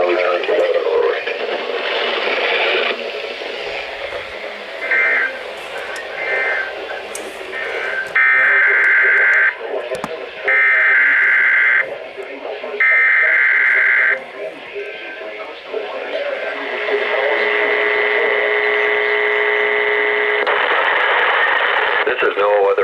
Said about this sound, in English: The preceding signal was a test of the public warning and alarm for transmitters in the Florida listening area originating from Ruskin, Florida.